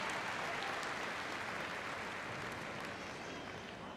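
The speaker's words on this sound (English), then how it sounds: "Big round of applause, please, for Poppet and Christine and Lee and Pip." Audience at a Crufts 2012 small dog agility knockout applauding a dog and handler pair, steady continuous clapping at moderate distance with no break.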